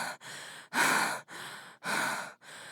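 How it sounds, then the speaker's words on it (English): Short, breathy gasps as a dramatic story effect, four or five quick rasping inhales and exhales in a steady rhythm, close and alone. "Her breath came in short gasps."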